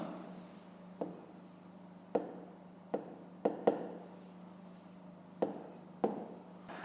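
A pen writes on paper while a math exercise is solved, giving soft scratchy strokes punctuated by several sharper taps and clicks at irregular intervals over a low background hum.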